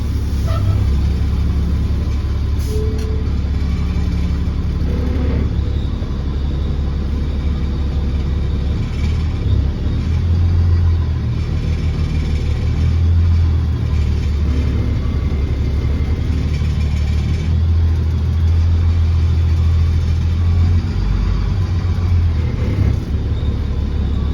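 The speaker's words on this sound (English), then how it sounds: "get ready to pull up our first smaller log. Let's see how the bus does." A bus engine rumbles low and steady while pulling a log at a cabin build site, a continuous heavy drone with slight surges in load throughout.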